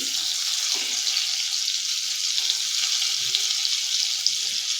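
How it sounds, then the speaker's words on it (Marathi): Salted butter melting in a spoonful of oil for butter popcorn, a steady hissing sizzle that stays even and close, with faint occasional clicks and no talking. "एक चमचा बटर बटर चांगलं मेल्ट होऊन द्यायचं आहे तेलामध्ये"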